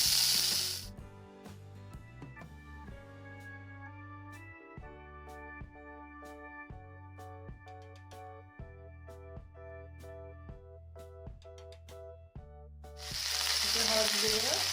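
Raw banana and potato pieces frying in oil with cumin seeds sizzle loudly at the start and again at the end, with instrumental music filling the stretch between.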